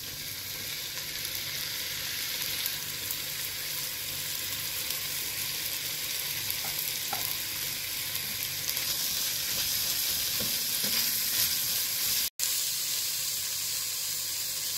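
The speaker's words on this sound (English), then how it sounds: "I am going to add the fish now." Fish frying in a pan with sautéed onions and curry leaves over a medium flame for meen thoran, a steady close sizzle and hiss with occasional stirring clatter.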